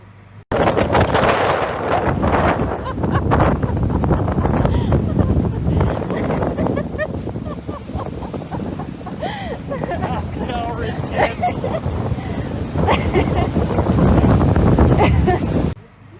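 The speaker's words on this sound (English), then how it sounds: "we'll share a video of how strong the winds were" Strong wind gusting along the Patagonian shore, a loud, rumbling buffet battering the microphone almost without pause, with voices faintly mixed in beneath the roar.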